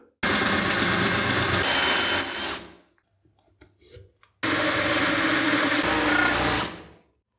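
A water-cooled tile drill bit bores through wall tiles in two loud, sustained grinding bursts separated by a short quiet pause.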